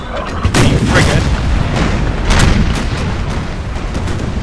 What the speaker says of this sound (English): Shots coming in from the frigate.